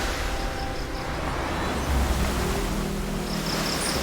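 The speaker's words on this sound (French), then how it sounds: "Les vagues, elles montent tellement hautes que ça atteint le camp et ça peut vraiment éteindre le feu." Steady, loud roar of ocean surf rolling onto a beach beside a survival-show camp, the wash swelling slightly midway with no talking over it.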